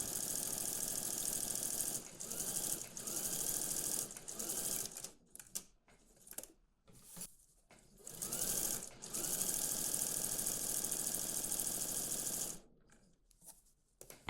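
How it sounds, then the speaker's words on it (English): Domestic sewing machine stitching around either side of a blouse cuff, running in two long steady bursts of rapid even whirring with short stop-start pauses between them, close and alone without voices. "we're going to stitch around either side of our cuff"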